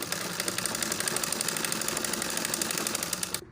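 A sewing machine stitching a turtleneck collar, a quick regular mechanical clatter close by that runs steadily and then stops abruptly near the end.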